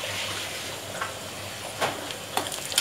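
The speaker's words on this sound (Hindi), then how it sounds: "प्याज को अच्छे से भुनना है" Chopped onions frying in a pan with salt and turmeric for an arbi masala dish, a soft steady sizzle with a few brief scraping stirs near the end.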